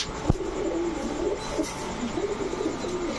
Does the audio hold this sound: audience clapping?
no